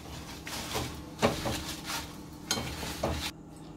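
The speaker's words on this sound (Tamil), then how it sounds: "இப்போ மிளகா வத்தல் நல்லா சலசலன்னு வறுபட்டு இருக்கோ" Dried red chilies fry in oil in a pan for a dosa chutney powder, with a soft steady sizzle broken by a few scraping stirs and clinks, close and fairly quiet with no one speaking.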